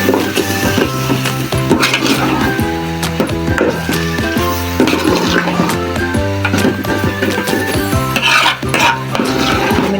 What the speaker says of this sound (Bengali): এখন আমি এই যে এই সেমাইটি দিয়ে দিব। ভালো করে ভাইজা নিন।